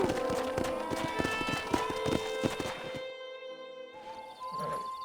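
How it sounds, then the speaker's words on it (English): Horse hooves clip-clop in a quick, uneven rhythm in the Red Dead Redemption video game amid wild horses, loud and close for about three seconds before trailing off into softer game ambience. "We got some fine horses."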